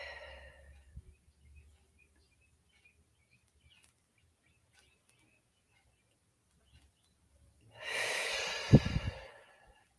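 Breathing during a quiet guided meditation: after long near-silence, one slow, deep breath rises close and clear near the end and fades out.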